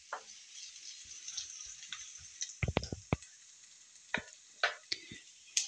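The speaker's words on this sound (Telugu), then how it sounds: "ఆయిల్ కాగాక ఉల్లిపాయ ముక్కలు వేసుకోవాలి. ఇది కొద్దిగా లైట్గా వేపుకోవాలి." Onion pieces lightly frying in hot oil for an Andhra-style chicken fry give a steady, soft sizzle, with scattered clicks and scrapes of stirring close by.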